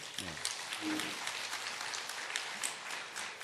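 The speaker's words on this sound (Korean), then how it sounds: "2등 이성준 어린이 이렇게 상을 탔는데 우리 교육기관까지 들릴 수 있도록 여러분 박수 한번 힘차게 보내주세요." Congregation at a church service claps for children awarded prizes in a Bible quiz, a quiet, fairly distant round of applause with a brief low voice near the start.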